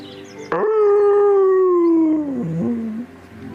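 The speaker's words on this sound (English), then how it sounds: "you hear in the distance a howl" A single long, wavering howl from a dog or wolf rises sharply, holds a steady tone, then dips and trails off. It sounds clear and fairly loud against a quiet background.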